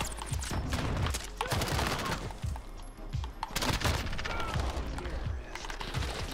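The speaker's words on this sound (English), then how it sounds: "they have a freaking sentry gun" A sentry gun in Modern Warfare fires rapid repeated bursts, close and loud, its sharp cracks mixing with other gunfire and impacts in a dense continuous barrage, with no speech.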